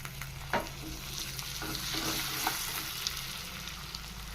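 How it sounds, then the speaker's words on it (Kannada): Cumin seeds and curry leaves sizzling in hot fat for a home-style Kannada sambar, a steady loud frying hiss with a few stirring scrapes, close and continuous, no voices. "ಈಗ ಇದಕ್ಕೆ ಜೀರಿಗೆ ಸೇರಿಸ್ತಾ ಇದ್ದೀನಿ. ನಂತರ ಕರಿಬೇವು ಸೇರಿಸ್ತಾ ಇದ್ದೀನಿ."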